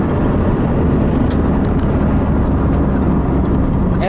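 A Buick Skyhawk J-body coupe from GM rolling down the road, a steady loud engine and road rumble heard from inside, with a few faint clicks and no speech.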